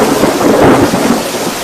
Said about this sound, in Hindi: अचानक बारिश की आवाज के बीच